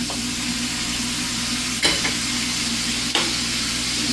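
Shrimp stir fry with cranberry mayo sizzling steadily in a hot pan, a continuous close frying hiss with two brief sharp clatters of stirring, no voices.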